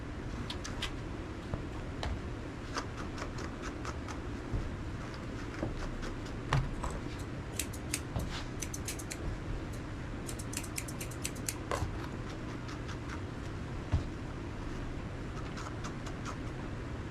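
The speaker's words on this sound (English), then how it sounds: "I'm using a mat splitter to cut through the tangles" A mat splitter works through tangles in a Cavalier King Charles Spaniel's tail, with many faint, quick clicking snips scattered over a low steady background hum and no talking.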